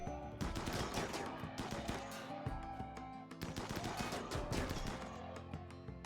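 Video game gunfire in heavy bursts of rapid automatic shots mixed with louder single cracks, close and dense, in two main waves with a brief lull between.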